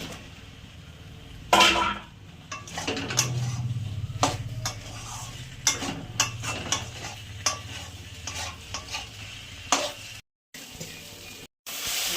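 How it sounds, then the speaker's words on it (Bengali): Masala is sautéed with potato and pointed gourd in a pan, producing repeated spatula scrapes and clatters over a low sizzle, uneven in rhythm, close, with brief pauses near the end. "এবার কষিয়ে নেবো মশলাটা। কষাবো পটল আর আলুটা দিয়ে।"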